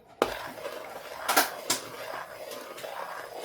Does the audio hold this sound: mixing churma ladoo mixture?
yes